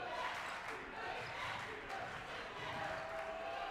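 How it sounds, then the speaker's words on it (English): Low murmuring crowd noise fills the gym at a women's college basketball championship game, a steady distant din of spectators, faint overall, with no clear cheering bursts. "Crowd making noise."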